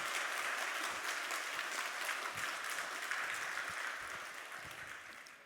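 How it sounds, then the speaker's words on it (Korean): Church congregation applauding during a Sunday worship service, a dense, steady clapping of many hands filling the room that fades slightly toward the end. "우리 너무너무 잘했다고 박수 한번 하겠습니다."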